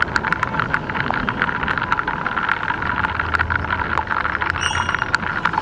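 Heavy, jammed traffic on a flooded road in a downpour: a steady broad wash of rain and car noise fills the scene, with a low engine rumble rising near the end and faint brief beeps.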